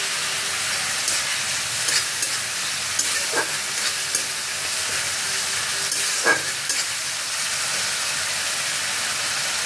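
Soaked cashews and raisins drop into tomato masala frying in a pan, a continuous close sizzle broken by a couple of sharp spoon clicks and light stirring, without any talk.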